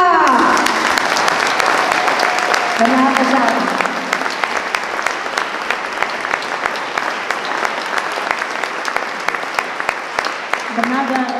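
A concert audience in Brežice claps in a long, steady burst of loud applause, with a presenter's voice speaking over the start and end.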